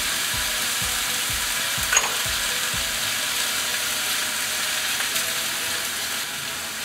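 Scallops sizzle loudly in a pan just splashed with cognac and white wine, with shrimp to come. A constant hissing fry is joined at first by a quick series of soft rhythmic scraping strokes, with no talking.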